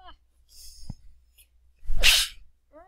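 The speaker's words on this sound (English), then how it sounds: "I'm gonna sneeze, hold on." One sharp, close sneeze bursts out after a faint intake of breath, loud and brief against an otherwise quiet room.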